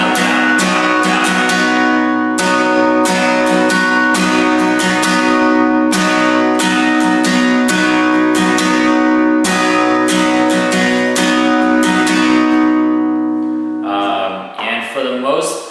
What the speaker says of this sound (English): Now we're going to move on to the strumming.